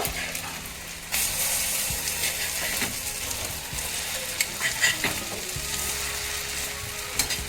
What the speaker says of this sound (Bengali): এক পিঠ হয়ে গেলে আর এক পিঠ উল্টে দিয়ে আমি স্বামী কাবাবগুলো লাল লাল করে ভেজে নেব